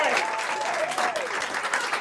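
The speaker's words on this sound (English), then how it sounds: "let's have a big round of applause for David." Audience at a magic show applauding loudly for a volunteer, dense continuous clapping and crowd noise with a voice speaking over it.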